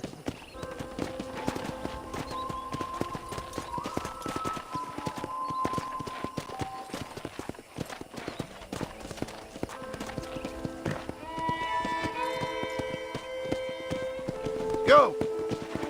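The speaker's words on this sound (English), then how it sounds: "I picked out a fine horse for you." Steady clip-clop of horse hooves at a walking pace in Red Dead Redemption, with background music and a person talking over the hoofbeats.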